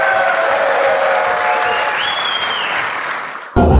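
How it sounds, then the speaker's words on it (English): Applause from an audience at a fundraising event, loud, dense continuous clapping sustained for several seconds before cutting off abruptly. "let's give Aleks and Danny and our Lord and Savior and all of you a big round of applause"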